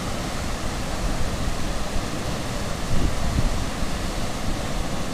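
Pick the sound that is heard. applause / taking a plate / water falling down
water falling down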